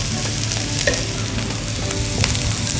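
Onions dropped into hot oil for an okra stir-fry crackle in a dense, continuous sizzle, with faint stirring clicks and no voices.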